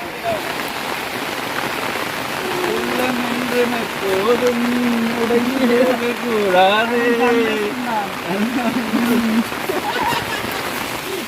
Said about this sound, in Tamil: மழை இன்றைக்கு தான் காணாத கூட மழையை கண்டிருக்கோம்